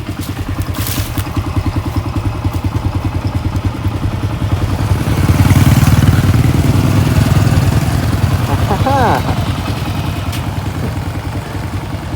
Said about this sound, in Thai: ขี่มอเตอร์ไซค์เลาะเลยนะผม